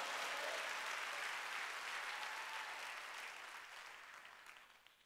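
A church congregation applauds together during a Sunday worship service. The dense, steady clapping fills the room, then gradually thins and fades toward the end.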